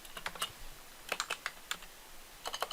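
Quick bursts of key presses on a computer keyboard while copying and pasting during React coding work, clustered clicks in short groups separated by pauses, close and clear with no talking.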